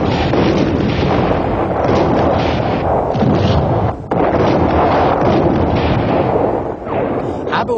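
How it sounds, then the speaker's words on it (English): Persistent artillery bombardment in a battle of the 1967 Arab-Israeli war, a dense, continuous rumble of overlapping booms and blasts, loud and sustained with a brief dip midway. "Sharon brought forward the divisional artillery units to soften them up by persistent bombardment."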